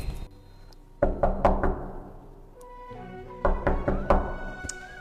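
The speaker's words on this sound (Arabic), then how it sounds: "الباب بيخبط" Knocking on a door in a home, two bursts of three or four sharp, loud raps separated by a short pause, with a softer tap at the end.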